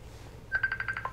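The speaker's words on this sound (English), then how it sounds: "Who's ringing? What is that ringing?" A phone-style ringtone from an incoming call on an iPad gives a quick series of short, evenly spaced electronic beeps, fairly faint beneath low room noise.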